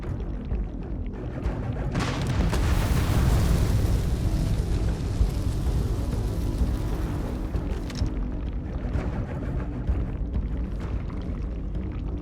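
A grenade detonates in the Starfield video game, a broad rumbling boom that swells and lingers for several seconds before tailing off into a low steady roar.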